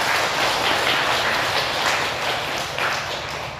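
A Buddhist Dharma service audience applauds together in a hall, a dense and steady round of clapping that carries on throughout and fades slightly toward the end.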